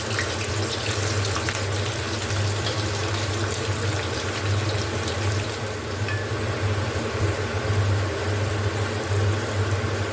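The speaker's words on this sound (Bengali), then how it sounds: "এবারে আমি এই তেলের মধ্যেই একটু ক্যাপসিকামগুলো হালকা করে ভেজে তুলে নেব।" Capsicum pieces fry lightly in hot oil in a pan for an egg chilli dish, a steady, continuous sizzle and bubbling hiss with a low hum underneath, close and even throughout with no talking.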